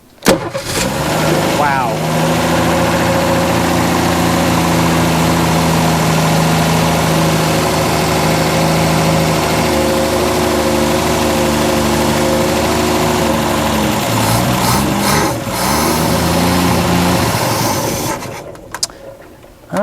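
An abandoned 1961 Ford Falcon engine, fed by hand with a little choke, starts almost at once and runs loudly and close at a rough, uneven idle for most of the time before cutting out, with brief voices over it.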